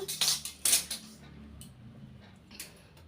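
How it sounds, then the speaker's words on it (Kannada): Scissors snip through blouse fabric for the back panel, three or four crisp metallic cuts close up in quick succession, then a quieter pause and one last snip. "ಈಗ ಬ್ಯಾಕ್ ಪಾರ್ಟ್ ರೆಡಿಯಾಗಿದೆ. ಇದನ್ನು ಕಟಿಂಗ್ ಮಾಡ್ಕೊಳ್ಳೋಣ."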